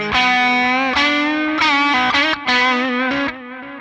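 Electric guitar lead tone driven through a Dark Mouse distortion pedal on a beginner pedalboard, a run of sustained, saturated notes with bends and quick note changes, loud and alone.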